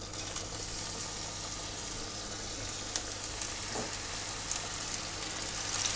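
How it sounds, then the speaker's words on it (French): Beef meatballs frying in fat in a hot pan for a Mexican soup, a soft, even sizzle and crackle throughout, fairly quiet and steady with a few faint clicks and no talking. "on va faire cuire les boulettes"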